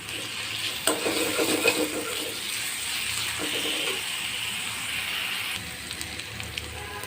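Onion paste frying in a pan for a Bengali katla fish curry, a steady hiss and sizzle with occasional stirring scrapes, close and continuous with no talking.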